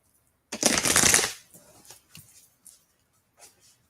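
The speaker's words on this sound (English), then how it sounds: "I'm going to give these cards a really good shuffle." Tarot cards are shuffled close up in one vigorous riffling burst of about a second, followed by a few softer, scattered card taps and rustles.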